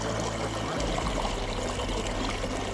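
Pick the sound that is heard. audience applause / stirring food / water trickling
water trickling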